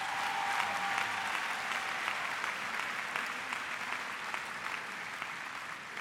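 Steady audience applause fills a graduation ceremony hall, a dense wash of clapping that holds at an even level throughout and tapers only slightly toward the end.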